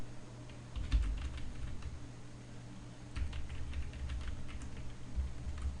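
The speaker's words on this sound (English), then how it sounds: "Okay, so I'm typing in update password.php." Keys on a computer keyboard clatter in quick, uneven bursts while a PHP file name is typed, close up and alone with no talking.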